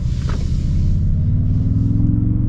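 Toyota Tundra TRD Pro pickup truck engine giving a loud, close, low rumbling drone that climbs slightly in pitch as it revs, steady with no talking.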